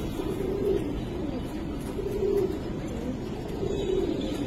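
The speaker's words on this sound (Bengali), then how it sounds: "এটা একটা মাদি কবুতর" Soft, low cooing of a female Giribaz pigeon repeats in a steady rhythm, close by in a loft, over a continuous murmur of background noise, with no talking.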